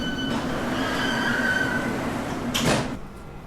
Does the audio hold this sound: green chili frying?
no